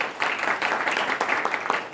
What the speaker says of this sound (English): Let's have a round of applause for Steve